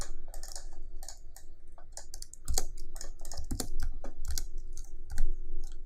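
Rapid, uneven clacking of keys on a computer keyboard while text is being typed, with bursts of close, crisp keystrokes and brief pauses, no speech.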